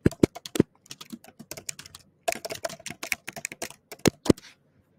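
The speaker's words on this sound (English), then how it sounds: "And then you can type your message down below." Someone types a message on a computer keyboard: quick clusters of light, crisp key clicks in two bursts separated by a short pause, with a few louder keystrokes, close and alone.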